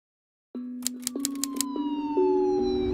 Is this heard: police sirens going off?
yes